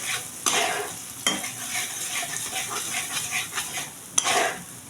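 Mashed pointed gourd (potol bhorta) is stirred and pressed in a pan with a utensil, giving a continuous scraping, sizzling texture punctuated by a few sharp clinks of metal against the pan.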